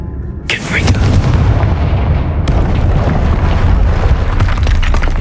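Confringo, the explosive spell in the Hogwarts Legacy video game, going off with a loud, close blast that fills the whole clip with sustained rumbling roar, with a second sharp burst partway through.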